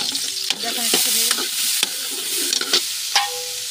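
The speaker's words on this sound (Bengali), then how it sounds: "সুন্দর করে ভেজে নেবো এটাকে" Tomato and spices fry in a pan for noodles, with a loud, continuous sizzle broken by several sharp utensil scrapes and taps as the mixture is stirred.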